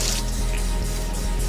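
Lukewarm tap water runs steadily over beet-dyed yarn during rinsing, a loud, close, continuous rush with faint drips and splashes and no talk.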